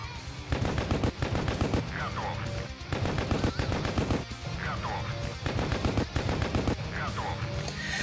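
The top cannon of a Leopard tank in the video game World of Tanks Blitz fires in rapid bursts. Loud cracking reports repeat in a fast, regular rhythm, with short mechanical whirs between the volleys.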